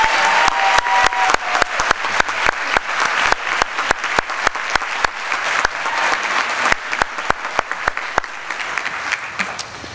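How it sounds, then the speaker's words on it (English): A congregation at a baccalaureate service applauds a choir. The dense, loud applause is steady throughout, with sharp individual claps standing out from the crowd. "let's a round of applause for the spectacular choir under the direction of Dr."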